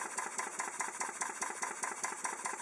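A vertical steam engine in an overhead gantry with ladders runs slowly at roughly 250 to 300 RPM, giving a steady, even mechanical chuffing and clatter with a regular beat throughout, close and fairly quiet.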